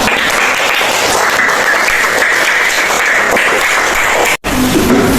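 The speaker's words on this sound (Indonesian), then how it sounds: "Kasih tepuk tangannya dulu." Loud, dense audience applause after a group presentation, sustained clapping from a sizable crowd that cuts off sharply near the end, followed by quieter room sound.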